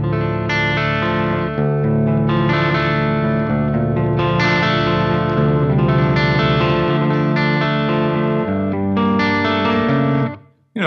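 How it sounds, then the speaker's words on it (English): An electric guitar plays sustained chords through REVV G3 and G4 pedals into the low input of a Marshall JCM800 amp, giving a full, continuous tone that cuts off near the end. "All right, so now the pedals go into the low input of a Marshall"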